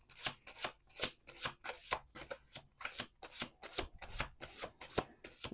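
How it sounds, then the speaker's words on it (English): A deck of tarot cards is shuffled at close range, giving a fast, steady run of crisp riffling flutters and soft slaps that keeps going without talk. "We'll do 2 more shuffles."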